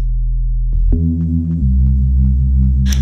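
Reese bass synth playing sustained low notes with a throbbing, detuned wobble, shifting pitch twice over a few seconds and ending with a short noisy burst.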